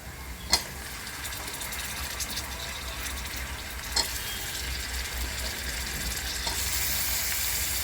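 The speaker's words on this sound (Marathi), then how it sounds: "टोमॅटो भाजू द्यायचं आपलं" Tomatoes frying in a pan with garam masala, a steady close sizzle and crackle that runs throughout, with a few sharp pops and a slight rise in intensity toward the end, no talking.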